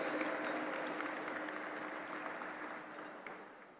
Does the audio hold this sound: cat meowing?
no